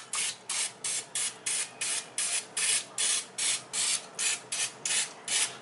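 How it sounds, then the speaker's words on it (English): A rapid series of short hissing bursts of olive oil cooking spray onto chicken, about twenty in steady rhythm, close to the mic with no talking. "now I'm spraying some olive oil on top of the chicken"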